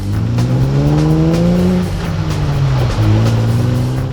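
A Jeep with a manual transmission drives along, its engine note steady and loud, with shifting gear pitch as it pulls through changes, close and continuous with no voices.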